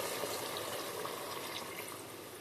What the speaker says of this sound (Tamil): அதுக்கு 1 கப் அளவு தண்ணி ஊற்றிக்கிறோம்.